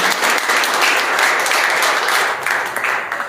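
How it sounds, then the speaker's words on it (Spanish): A church congregation applauds loudly during a sermon service, a thick continuous burst of clapping that holds steady and fades slightly toward the end, with no talking over it. "Démosle un aplauso al Señor."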